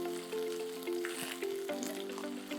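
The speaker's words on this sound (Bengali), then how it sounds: "মশলা থেকে তেল ছাড়ছে আস্তে আস্তে, মশলা কষা" Spice paste sizzling steadily in oil in a pan while cooking a mango chicken curry, a close, continuous frying hiss with faint tonal background hum and no speech.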